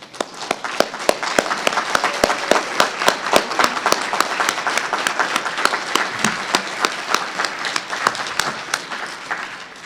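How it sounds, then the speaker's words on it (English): A large audience applauds tribal ICWA social workers at a conference on Indian child welfare, steady, dense clapping with sharp individual claps standing out, close and sustained for the whole stretch. "give them a round of applause"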